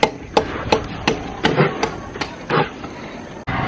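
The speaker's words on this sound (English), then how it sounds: "Lots of chipping." Chisel blows chipping into a wall to cut a recess for an electrical outlet during house building in the Philippines, about eight sharp, evenly spaced impacts at close range.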